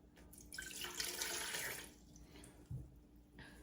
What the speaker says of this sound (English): So in goes our warm, tap warm water.